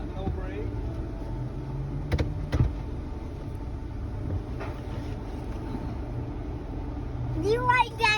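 An automatic car wash works around a stopped car, steady whooshing and rumbling machinery with a few sharp thumps, while people talk inside the car over it.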